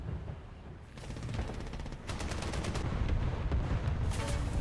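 War Thunder tank battle with dense, continuous gunfire and explosive cracks layered over rumbling battlefield noise, the barrage building louder midway and holding steady at close range, no voices.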